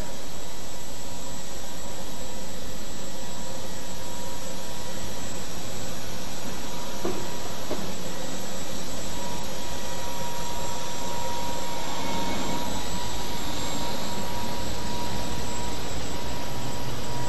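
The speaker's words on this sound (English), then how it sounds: "The twin turbines right there." Twin turbine engines running at a farm machinery show, a steady loud jet-like roar with high whine sustained throughout, no speech over it.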